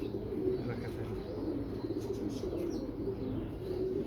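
Domestic pigeons in a home loft, a parent pair with their chick, coo steadily in low, throaty rolling calls over a constant background murmur, with no talking.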